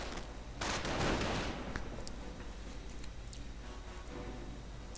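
Video game battle in which grenadiers fire on wounded riflemen: a burst of rapid small-arms fire up front, then scattered faint shots and clicks over a steady background hum.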